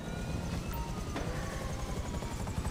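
A helicopter in a video game hums with a steady, broad engine-and-rotor drone that fills the whole short stretch at an even loudness, with no talk over it.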